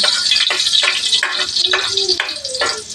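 Steady hissing sizzle of garlic frying in a hot pan, with periodic scraping and stirring clinks from a utensil.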